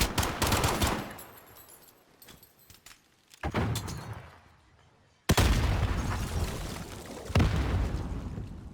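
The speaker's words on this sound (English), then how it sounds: "Grenades going back and forth." Gunfight in a 1v1 video game tournament: loud bursts of rapid gunfire and sharp booming grenade blasts trade back and forth, with a quieter lull in the middle before a heavy explosion and more firing.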